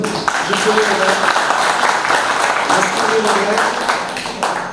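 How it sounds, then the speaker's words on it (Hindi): Audience applause fills an open mic poetry event, a steady dense wash of clapping lasting the whole stretch at close, loud level, with voices mixed in underneath. "एक बार जोरदार तालियां पूरा सदन"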